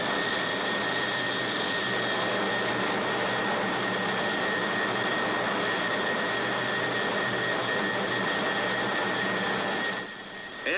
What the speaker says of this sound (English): soon after M crit is exceeded, the aircraft starts to buffet violently